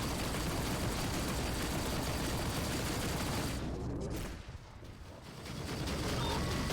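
Dense, rumbling blasts and crackling fire in the space combat game Rebel Galaxy Outlaw, a continuous roaring barrage that briefly drops away before swelling back up, heard without speech.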